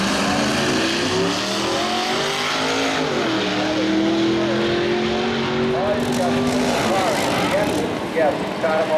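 Tri-5 Chevrolet cars race down a drag strip at an antique nationals meet, engines roaring loud and close as revs climb and shift across several seconds, a tire squeal cutting in partway, with people talking underneath.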